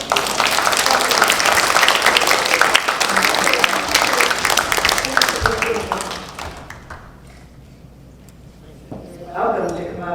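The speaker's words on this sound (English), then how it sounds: "let's give her a big hand of applause" An audience claps for a guest at an event: a loud, dense burst of clapping that fades away after about six seconds, followed by quieter voices talking.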